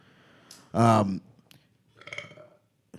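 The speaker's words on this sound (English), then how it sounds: "Your burp?" A man lets out a single loud, short burp in a casual podcast setting, followed by quieter vocal sounds and a soft click.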